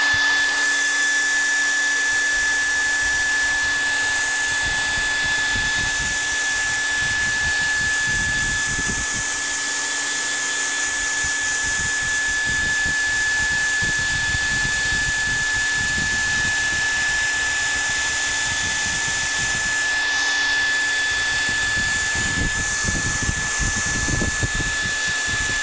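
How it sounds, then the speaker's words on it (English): A blow dryer running on its low setting heats embossing powder, a continuous close whir with a steady high whine that holds without pause throughout. "I do have a low setting on my heater, or on my blow dryer, so we're going to try that"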